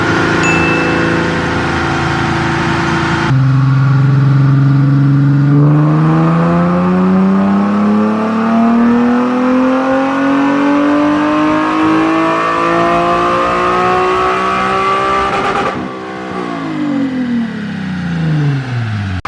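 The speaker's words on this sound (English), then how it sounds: "We made one pull on the dyno, one pull." An Infiniti G37 engine revs hard through a single dyno pull: a loud, sustained drone climbs steadily in pitch for about twelve seconds, then the revs drop away as the throttle closes.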